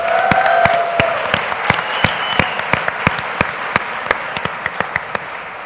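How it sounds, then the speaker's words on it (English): A tech conference audience gives a round of applause, with loud rhythmic clapping that thins to a steady beat of individual claps. "One more round of applause for Qwiki."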